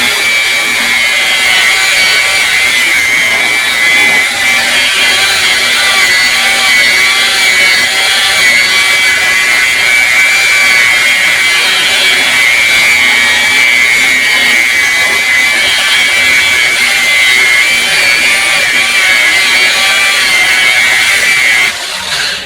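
A power polisher buffs a car headlamp lens, giving a loud, steady motor whine that runs unbroken for about twenty seconds before cutting off.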